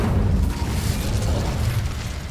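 A fire spell is cast in the video game Hogwarts Legacy, giving a loud, steady roaring whoosh of flame that holds for about two seconds with no talking.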